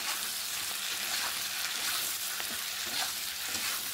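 Capsicum and onion frying for chilli chicken gravy: a steady, dense sizzle holds at close range for the whole stretch, with occasional soft stirring clicks mixed in, and no voices.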